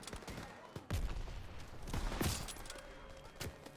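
Gunfire in a Call of Duty game, with several sharp shots and a quick volley heard fairly faintly in a busy mix.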